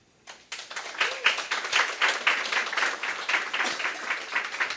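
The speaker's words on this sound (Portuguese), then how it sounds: "Queria pedir uma salva de palmas para o parente Eric Kamikiwa." An audience breaks into applause at a gathering on Indigenous women's territories, starting after a brief quiet moment and building into a lively, sustained clatter of many hands at close range.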